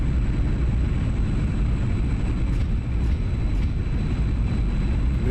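A MiG-21 jet climbs after takeoff in the DCS flight simulator, giving a steady, loud, dense engine roar with a constant low rumble and hissing air noise that holds even throughout.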